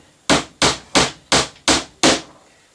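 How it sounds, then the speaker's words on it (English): Hammer tapping small track pins into an OO gauge model railway baseboard: six sharp, evenly spaced strikes about a third of a second apart, close and clear, with no talking. "That bit of the hammer is actually too wide to go between the tracks"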